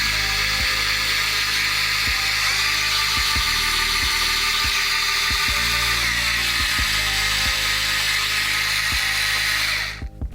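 A Ryobi 4V USB lithium scrubber runs at maximum speed as a steady, high-pitched motor whine with a regular rattling tick. It stays loud and close, then cuts off abruptly at the very end.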